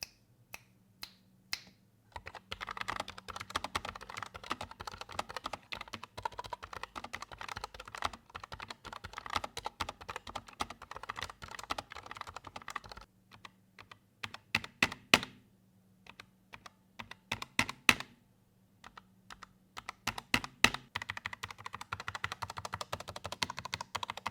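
Logitech gaming mechanical keyboard keys clack in steady runs of typing, crisp and close, with brief pauses and a few louder isolated strikes.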